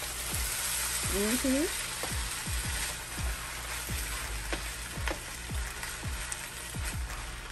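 Shrimp fried rice sizzles steadily in a hot pan, with repeated scraping knocks of a spatula folding the rice at an uneven rhythm, close and moderately loud, with no talking.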